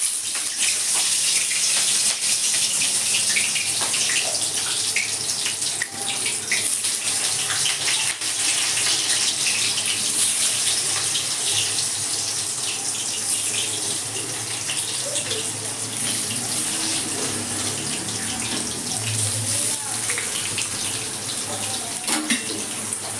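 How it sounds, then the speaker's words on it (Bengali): Boiled potatoes with salt and turmeric dropped into hot oil for biryani, giving a dense, steady hiss and bubbling sizzle that fills the space continuously at close range. "আমি এবার আস্তে আস্তে আলুগুলো ছেড়ে দেবো তেলের মধ্যে"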